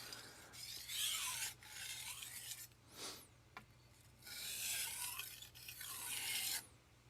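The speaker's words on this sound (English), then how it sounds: "Just a couple quick strokes here for deburring." A Japanese Tojiro R2 santoku knife is drawn across a coarse sharpening stone in a few deburring strokes, each a distinct raspy scrape with short quiet gaps between, close and alone.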